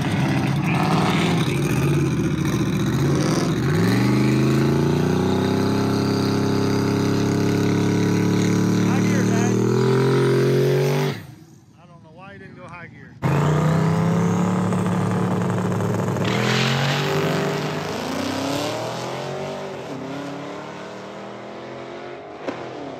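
A drag race car roars loudly as it accelerates down the strip, its engine pitch climbing steadily before cutting off abruptly, then a second loud engine run rises and gradually fades into the distance.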